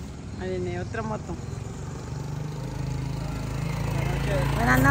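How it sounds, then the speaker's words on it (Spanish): A motorcycle approaching along a street at a taco stand in Tangancícuaro, Michoacán at night, its engine drone rising steadily louder toward the end while people talk nearby at the start. "Ahí viene otra moto."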